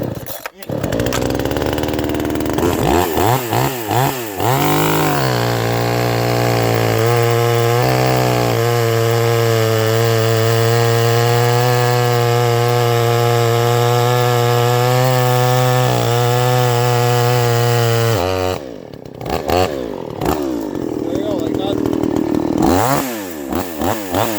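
A Radley 52cc chainsaw with a 20-inch bar sputters to life, then revs loud and close into a sustained high whine while cutting wood, dropping and restarting near the end; someone talks at times.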